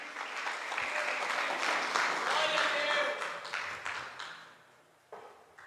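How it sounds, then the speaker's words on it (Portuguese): Applause from a church congregation clapping in praise to God, a broad wash of clapping with voices mixed in that swells, then gradually fades and thins toward the end. "Será que alguém pode aplaudir a Deus para me ajudar aqui?"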